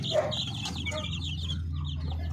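Upgraded native chickens cluck softly in a breeder's coop, a short run of quiet, close clucks and chatter over a low steady background hum.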